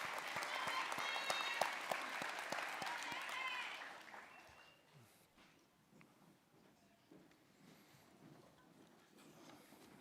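Applause at a graduation ceremony, a full crowd clapping loudly for about four seconds before dropping away to scattered claps, murmuring and faint room noise.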